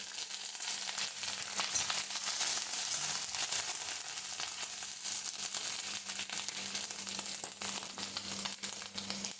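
Finely chopped garlic and ginger fry in a pan over a low flame, giving a steady, close, continuous sizzle and crackle with no talking.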